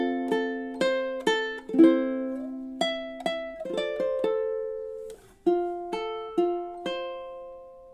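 Close, clean ukulele strums of measures 11 and 12 from a song, a steady run of chords each decaying before the next, with a short slide and a brief pause midway.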